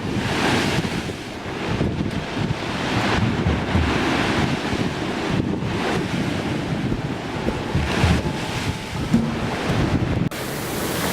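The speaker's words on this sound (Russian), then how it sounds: "Волны захлестнули Фатьму и увлекли в глубокое синее море." Rough sea surf surging and crashing continuously, mixed with strong wind buffeting, loud and close with no pauses.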